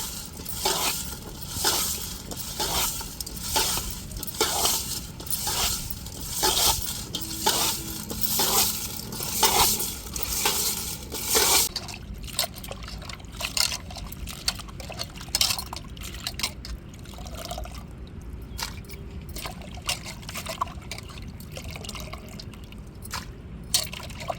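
Boiled conch meat is rinsed with rock salt and water, giving a continuous wet sloshing and rubbing with rhythmic splashes that ease into quieter dripping and trickling, close up and with no talking.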